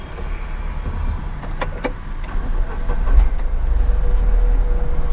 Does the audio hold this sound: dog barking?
no